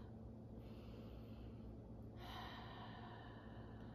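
A single quiet, breathy inhale during a gentle yoga session, rising softly about halfway through over low background hiss.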